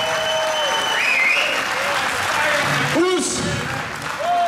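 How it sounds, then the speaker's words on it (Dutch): A crowd applauding steadily throughout, with a voice calling out over the clapping and some tonal electronic sounds in the background. "En mag ik ook een applaus voor Petros Vardakas."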